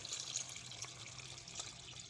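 Water poured into a pot of Moroccan chicken stew for medfouna seffa, a soft continuous pouring and splashing hiss, fairly quiet and steady, with no voices.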